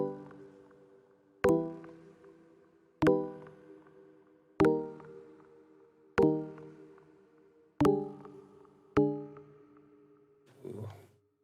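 A music-box pluck synth preset from the DOOMSDAY Serum bank sounds seven evenly spaced bell-like plucked chords, each decaying slowly, followed by a short muffled low note at the end.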